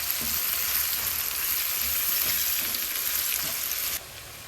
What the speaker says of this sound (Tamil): அதனால் ஸ்டவ்வை கொஞ்சம் சிம்மில் வச்சுட்டு நல்லா வதக்கணும்.